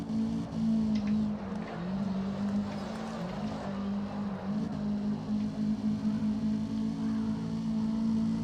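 A Toyota AE86 Hachi-Roku in the CarX Drift Racing Online game drones with a steady, loud engine note that wavers slightly as the car slides and understeers, with no talk over it.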